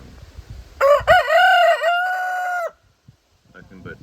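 A single rooster crows loudly and close by in one long, drawn-out call, with a few soft clucks and rustles before and after.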